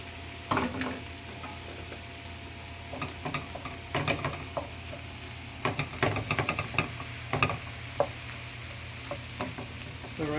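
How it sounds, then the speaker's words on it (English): Mushrooms sizzle in a hot pan under a low, steady frying hiss, broken by irregular scraping clicks and knocks as a utensil stirs them around. "Going to add my mushrooms."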